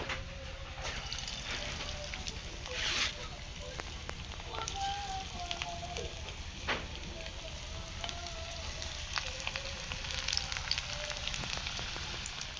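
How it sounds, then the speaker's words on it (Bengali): Banana flower and prawn chops deep frying one by one in hot oil in a kadai, a steady crackling sizzle with occasional sharper pops, close and moderately loud. "কড়াইতে তেল দিয়ে দিয়েছি, তেল গরম হয়ে গেছে। এবার একে একে চপগুলো ভেজে নেব।"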